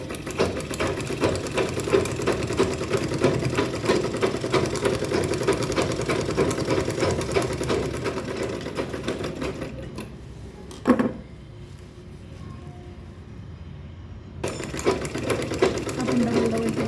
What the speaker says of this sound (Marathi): अशा प्रकारे इकडून पण टिप मारून घेऊ.